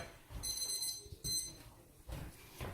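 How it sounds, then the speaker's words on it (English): A kitchen timer goes off while a stuffed pork loin cooks on the stove, giving two short bursts of bright, high electronic beeping over low kitchen rumble. "I'm just going to turn off the stove, turn off the timer for you"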